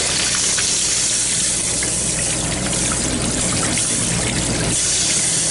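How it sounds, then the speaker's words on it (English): Water running loudly and continuously from a garden hose and an open sewer line beneath a camping trailer, a steady close gushing wash with no pauses. "This water that's running down here is coming from, well, I've got the sewer line just wide open when I run water inside there"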